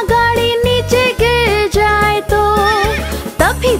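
A horse neighs as a sound effect within a Hindi children's lullaby, its whinnying cries riding loudly over a steady, rhythmic musical backing.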